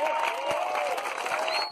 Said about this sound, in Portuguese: Uma salva de palmas aí pelo cabo SATA.